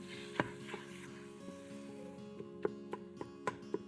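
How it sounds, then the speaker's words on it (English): Ground meat being broken up with a meat tool in a pan as it cooks, a soft background sizzle punctuated by a series of sharp tapping and scraping strikes, close and fairly quiet. "So I'm gonna just break up the meat a little bit here as it's cooking."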